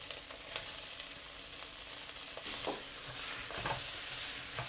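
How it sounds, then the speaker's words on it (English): Minced pork stir-fried in red chili oil for Szechuan mapo tofu gives a steady, close, loud sizzle, with scraping stirs rising through it now and then. No one speaks. "we'll add it back our minced pork"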